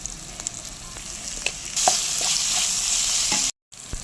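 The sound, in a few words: pepper chicken with capsicum frying in pan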